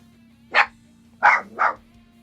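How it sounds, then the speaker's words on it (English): A pet dog barks three times in quick succession at someone coming home, sharp and fairly close, with a steady low hum beneath and brief quiet gaps between the barks. "when someone comes back to my house and I hear the door, my dog goes nuts"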